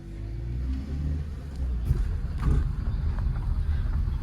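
A Maruti Suzuki Fronx driving on its way to its first service, a low engine rumble and road noise heard from inside, steady and moderate, with faint wind.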